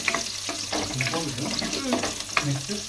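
Ingredients sautéing in a pan for a Tamil kara kuzhambu with drumstick and black chickpeas, a steady soft sizzle and stirring clatter at close range, with occasional voices talking over it.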